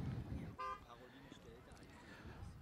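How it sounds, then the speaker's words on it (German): A short Mini car horn honk, a quick single toot at a polo match, with people talking in the background before and after. "Die Hupe von dem Mini funktioniert."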